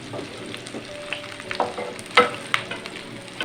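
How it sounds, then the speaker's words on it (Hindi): Onions frying in ghee in a frying pan give a low, soft sizzle, broken by a few sharper clinks and stirring knocks, heard close and without speech. "प्याज को नाज़रीन हम थोड़ा सा फ्राई करेंगे ताकि इसका कच्चापन जो है वो ख़त्म हो जाए"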